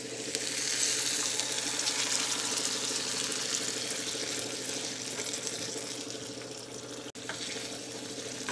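Water goes into a pan of chana dal softened in oil for gongura curry, a steady unbroken hissing pour with a faint sizzle and no voices.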